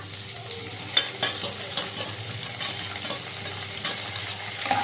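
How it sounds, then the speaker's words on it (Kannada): Curry leaves and crushed green chillies crackle in hot oil, a moderate steady sizzle punctuated by sharp pops and spatter bursts. "ಸೊ ಕರಿಬೇವು ಸೊಪ್ಪು ಮತ್ತು ಜಜ್ಜಿರೋಂಥ ಹಸಿಮೆಣಸಿನ್ಕಾಯಿ ಹಾಕೋಣ."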